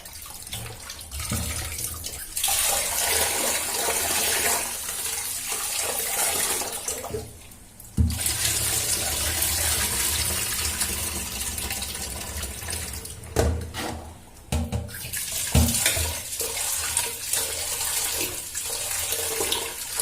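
Water runs steadily from a kitchen tap while soaked urad dal and rice are washed, a continuous rushing splash with brief breaks and clunks as the vessel is handled.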